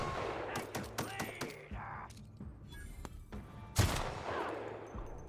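Rifle fire in the video game The Outer Worlds: a rapid cluster of sharp gunshots, then scattered single shots and a heavy blast, loud and close over game ambience.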